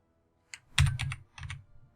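Keys tapped on a computer keyboard during a Victoria 2 strategy game session, a short burst of several close, crisp clicks in two quick clusters separated by a brief pause.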